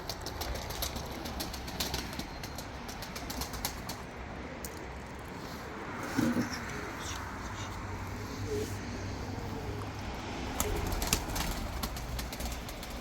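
Soft pigeon cooing with a few flutters of wings, fairly faint against outdoor background noise.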